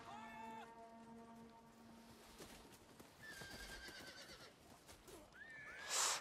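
Horses neigh and whinny amid battle in Total War: The Dawnless Days, several shrill whinnies rising over a clattering, rumbling din of combat, with hooves and clashing in the background and a louder burst at the end.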